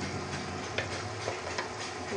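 Ground spices, turmeric, coriander, chili and cumin, are stirred in a hot pan for a rohu fish-head lentil dal, with a steady close sizzle broken by a few soft scraping strokes.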